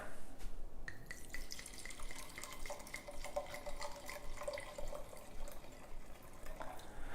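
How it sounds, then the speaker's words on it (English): Wine poured into a glass in a home kitchen, a steady liquid trickle with a faint gurgle lasting several seconds, close and fairly quiet. "pour myself a glass of wine"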